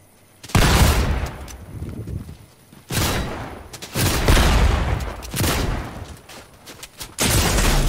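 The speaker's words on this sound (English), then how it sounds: "Oh no, they're shooting me." Enemy gunfire in Fortnite crackles in loud, close bursts, several rapid volleys separated by short pauses, with heavy rattling shots dominating throughout and no voices.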